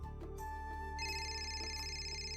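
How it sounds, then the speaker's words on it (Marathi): A telephone rings indoors with a tonal electronic ringtone, a steady stack of pitched tones that shifts partway through, heard alone without talk. "फोन वाजलाय"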